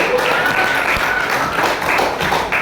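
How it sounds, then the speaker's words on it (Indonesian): A group of people clapping hands together in a classroom, dense and steady for a few seconds with a faint voice mixed in. "Kasih tepuk tangan."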